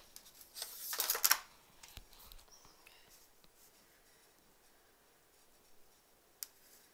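Scissors trimming quilt fabric strips, a short burst of crisp snipping near the start followed by quiet handling and a single faint click later, close and soft.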